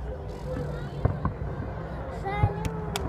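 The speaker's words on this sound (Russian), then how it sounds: "Салют." A Victory Day fireworks salute in Penza booms in the distance with a few separate thumps and crackles, under a crowd's babble and nearby voices.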